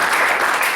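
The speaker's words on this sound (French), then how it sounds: "amen, acclamation pour le Seigneur" Brief burst of steady applause from an audience at a French-speaking church gathering, dense and continuous throughout.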